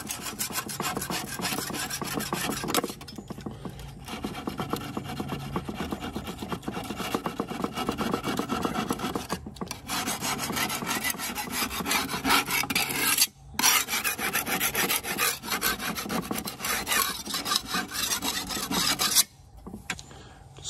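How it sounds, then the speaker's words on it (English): Old gasket adhesive is scraped off the rim of a Big Green Egg ceramic grill in close, continuous rasping strokes, with a few brief pauses between passes. "I'll scrape it usually one more time. Make sure all the old adhesive is off."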